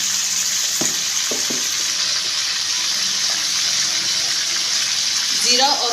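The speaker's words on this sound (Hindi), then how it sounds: "अच्छे तरीके से इसी मसाले में हमने अच्छे से थोड़ा सा इसको भूनेंगे" Chicken frying and being stirred in masala in a pan, a soft steady sizzle with a few scraping stir knocks near the start and a brief wetter hiss near the end.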